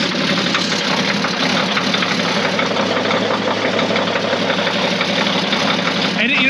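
A John Deere model 40 crawler's glow-plug engine runs at a steady idle, its loud, dense chugging rumble continuing without a break throughout.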